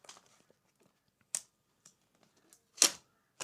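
Seal on a UGREEN capture card box being torn open, a few sharp crisp rips and crackles separated by near silence, close and fairly loud.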